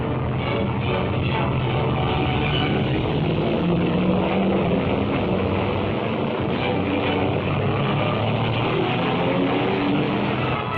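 Steady, loud aircraft engine drone of fighter planes passing overhead, a continuous broadband roar with a low hum that holds for about eleven seconds without letting up.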